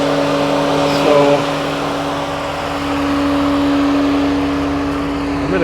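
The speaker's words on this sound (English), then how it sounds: "The electric fan is running and the car was just started." A BMW E70 X5 with the 4.8 V8 idles just after starting, its electric cooling fan running with a steady whine over a smooth continuous engine hum, close and even throughout.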